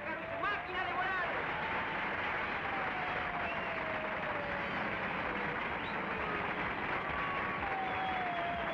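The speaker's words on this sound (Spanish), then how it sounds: "Fuerte el aplauso para el hombre pájaro y su máquina de volar." Audience applause for a bird man and his flying machine at a 1978 Argentine stage show, a steady wash of clapping with crowd noise underneath and some whistling or tonal sounds drifting over it throughout.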